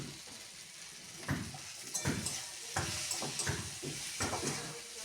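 Potato and brinjal sautéing with turmeric and chilli powder in a pan alongside onion and tomato, with a soft steady sizzle broken by repeated scraping and stirring clatter of a spatula against the pan.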